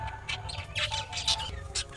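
Caged pet birds chirp in short, bright bursts while they are given food and water, several quick calls close by over a low steady hum.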